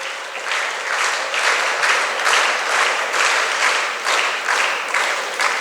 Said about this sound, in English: Shall we have our applause for the Lady Hill?